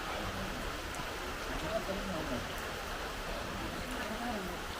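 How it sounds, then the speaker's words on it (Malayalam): Steady rain falls outdoors in a home setting, a continuous even hiss of drops on surfaces throughout with no clear breaks, fairly soft in level. "ഇന്നും മഴ"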